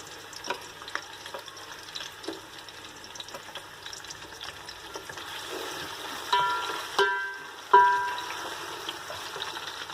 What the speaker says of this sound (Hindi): इनको हमने तकरीबन 2 मिनट के लिए फ्राई करना है ताकि ये लाइट ब्राउन हो जाएं और नरम हो जाएं